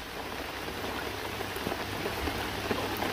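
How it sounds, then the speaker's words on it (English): Rain falls steadily on a fishing lake, a dense, even patter with scattered sharper drops, fairly loud and continuous with no talk. "now he's making me stand out in the rain"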